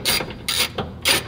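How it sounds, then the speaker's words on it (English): A ratchet wrench loosens factory bolts on a pickup truck bed during nerf step bar installation, three quick bursts of close, crisp clicking separated by short pauses. "we're gonna wanna remove these two factory bolts here"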